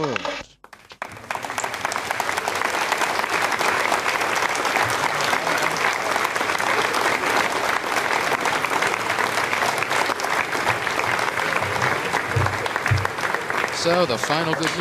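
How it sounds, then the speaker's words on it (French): Mission control room erupts in sustained applause after the Telkom 3S satellite separates from its Ariane 5 launcher, a dense, even wash of clapping that holds steady for over ten seconds, with voices faintly mixed in. "vous pouvez entendre les applaudissements"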